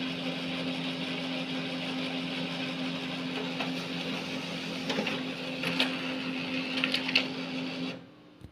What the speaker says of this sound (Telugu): చూసారా, ప్రింట్ వస్తుంది.